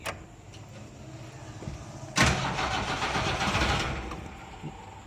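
A Hindustan Ambassador car's engine cranks and tries to start, first a faint start followed at mid-clip by a loud, sustained burst of churning engine noise that fades toward the end, with no talking.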